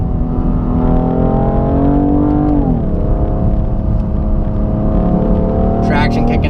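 A 2017 BMW M3 with a double-clutch transmission revs hard and steadily, its engine pitch climbing and then dropping sharply at a quick gear shift before it pulls on, loud and close throughout.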